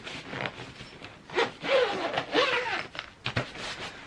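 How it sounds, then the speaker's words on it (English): A packed holiday suitcase is zipped shut in a series of short, rasping pulls of varying length, close up and quiet, with no talking. "And then let's zip this up."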